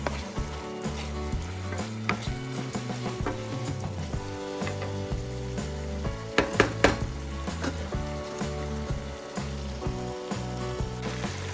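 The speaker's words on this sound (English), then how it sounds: "So we're gonna leave our turkey franks to get a little bit of color." Turkey franks fry and get stirred in a pan, giving a steady sizzle with scraping and clattering utensil knocks. A short burst of louder clanks arrives partway through, and nobody speaks.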